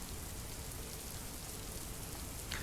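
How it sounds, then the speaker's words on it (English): Steady rain falls in the video game TONIN Bunny Kunoichi, a continuous, even hiss of drops on surfaces with no break, fairly soft and alone without voices, with a small brighter tick near the very end. "I do like the rain sounds."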